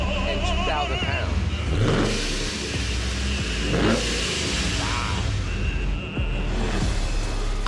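Supercharged 1970 Ford Mustang, a blown roughly 400-horsepower V8 in a light car, idling with a loud rumble and swelling into a few sharp revs, heard up close with some outdoor crowd noise around it.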